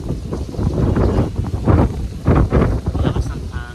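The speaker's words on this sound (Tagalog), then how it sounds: "Lakas ng hangin" Strong wind buffets the microphone outside an old church plaza in Iloilo, loud rumbling gusts rising and falling close up, with no speech.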